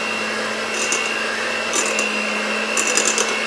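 An electric beater whirs steadily through plum cake batter with butter, a continuous close motor drone with faint rattling scrapes against the bowl and no voices.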